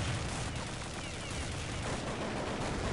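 Counter-Strike 1.6 gunfire on the Dust2 map keeps up as a dense, continuous rattle of shots, steady and fairly loud throughout.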